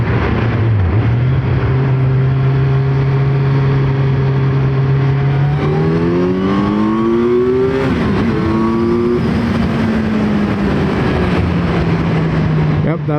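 Kawasaki Z900 motorcycle engine revving loudly inside a tunnel, a steady idle drone climbing into rising revs that echo off the walls, then settling back to a lower hum, close and continuous.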